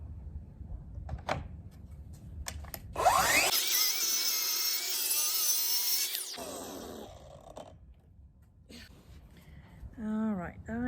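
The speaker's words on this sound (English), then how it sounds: "Plunge in the middle and then do the rest with the jigsaw." A jigsaw cuts wood for a DIY radiator cover, giving a loud, steady buzzing burst of about three seconds, framed by quieter handling knocks before and after.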